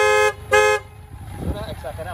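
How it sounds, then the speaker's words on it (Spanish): The modified horn on a BMW K100 motorcycle gives two short, loud, deep truck-like toots, followed by someone speaking nearby. "la bocina está cambiada y suena como un camión"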